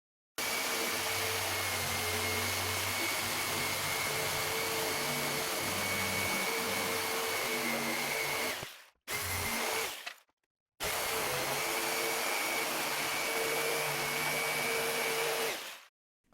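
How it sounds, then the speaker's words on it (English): A jigsaw cuts through a wooden console panel for an arcade cabinet build, a loud, steady buzzing drone that runs for about nine seconds, stops briefly, resumes for a moment, then cuts again for several more seconds. "So I'll be using the same jigsaw blade that I cut the holes out for the shape of BatMAME."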